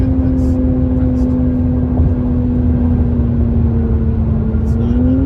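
A 2021 Jaguar F-Pace S R-Dynamic engine drones steadily from inside the cabin while being paddle-shifted between fifth and fourth gear, its pitch holding fairly even with a slight rise near the end.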